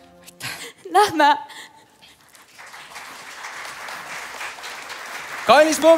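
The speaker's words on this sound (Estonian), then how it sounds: "Kallis publik, te suudate plaksutada veel kõvemini." Audience at a high school's self-created musical "Ükssarvik" claps steadily for several seconds in the middle, with bursts of voices and high-pitched vocal sounds before and after.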